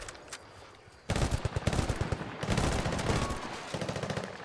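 Assault rifle fire in a video game, sustained rapid automatic bursts starting about a second in and running loud to the end, with dense overlapping shots and no talk.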